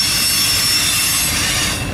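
A Norfolk Southern intermodal freight train rolls past close to the track, a loud, steady roar of railcars with wheel squeal and faint clickety-clack throughout.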